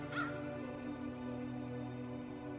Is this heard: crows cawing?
yes